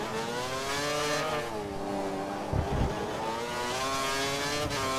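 F1 car engine held in second gear in the F1 2013 racing game at Abu Dhabi, a steady high-pitched whine with shifting harmonics running throughout, briefly dipping and rising as revs change, with a short low thump midway.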